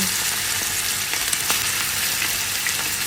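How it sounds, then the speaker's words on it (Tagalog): Chicken wings deep-fry in hot oil with a loud, dense, continuous sizzle and scattered pops, close up and without speech. "Prito time! So, prito na natin."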